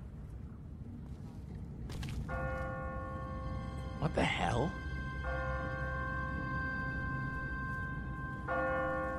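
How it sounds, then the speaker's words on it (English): An automatic church bell on a timer tolls in a quiet city in The Walking Dead video game, sustained ringing tones starting early and recurring near the end, with ambient background and a short spoken exclamation in the middle. "What kind of church bell goes off at 20 past the hour?"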